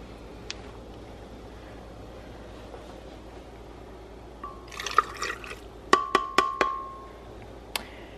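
Water poured into a cooking container while preparing chicken with cactus, a brief splashing fill followed by several sharp clinks and drips, close and fairly clear.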